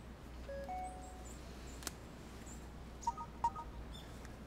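Faint, short electronic keypad beeps from a mobile phone as a text message is deleted, a few brief tones scattered over a low, quiet background hum.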